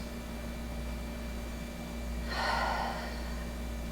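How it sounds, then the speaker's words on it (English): A single slow inhale through the nose during a relaxing yoga session, a soft airy rush rising briefly over steady background hiss. "focusing in the breathing, inhaling in through the nose"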